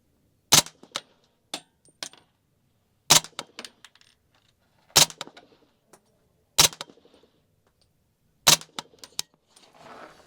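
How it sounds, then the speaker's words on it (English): Suppressed gun fired at an outdoor shooting range: five sharp, evenly spaced shots roughly every two seconds, each followed by brief clinks and echoes, fairly quiet and with no talk. "You guys probably hear how quiet that gun is."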